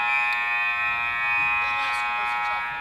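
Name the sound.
hockey game period-end buzzer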